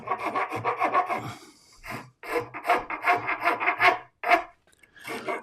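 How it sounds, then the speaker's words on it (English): A small Japanese file rasps across wood in quick, rhythmic bursts of scraping strokes, each run of strokes broken by short pauses, close and clear with no talking. "filing away, rasping away for ages"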